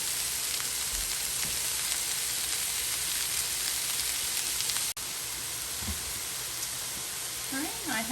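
Butter melting in a hot pan after olive oil has cooked off, a steady loud sizzle that fills the whole stretch, with a brief voice near the end.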